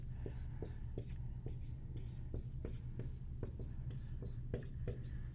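Pen strokes on paper while a vector is written out: a faint, continuous scratching with repeated short ticks as each stroke lands, close up, with no talking.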